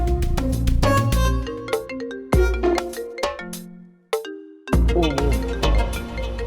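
A mobile phone ringtone plays loudly for an incoming call, a bright, busy electronic melody of repeating tones with short breaks, filling the room with no talk over it.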